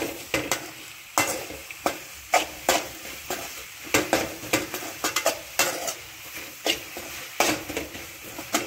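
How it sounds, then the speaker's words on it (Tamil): Drumstick leaves and egg stir-fried in ghee in a pan, a low sizzle punctuated by frequent clattering spatula strikes and scrapes in an uneven rhythm, close and clear, without speech. "இப்போது இதை சேர்த்து நல்லா மிக்ஸ் பண்ணி இதை நல்லா மறுபடியும் ஃப்ரை பண்ணுங்கள்."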